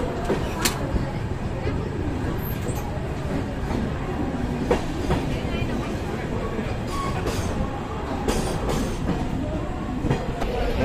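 Lokmanya Tilak Terminus to Chennai Central Express train travelling, a steady rumbling interior roar with faint rhythmic wheel clicks throughout, moderately loud and continuous, with no clear talking.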